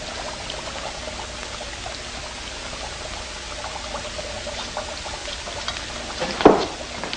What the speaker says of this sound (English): You hold this while I pour this chemical.